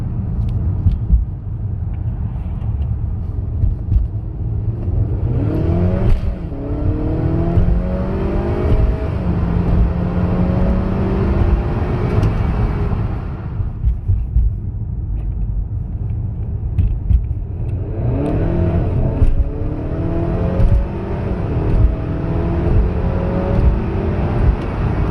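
A tuned Honda Accord 2.0t engine roars through two strong acceleration runs, the turbo four-cylinder note climbing in pitch each time, then easing back to a steady road rumble in between.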